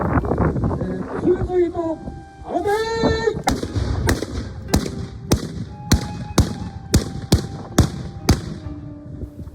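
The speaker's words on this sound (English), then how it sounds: "In that example, all 10 guns were able to fire" Ten Japanese matchlock guns fire an independent volley at Matsumoto Castle, a string of sharp, loud reports cracking out one after another at uneven, rapid intervals, preceded by muffled voices and a brief whistle-like tone.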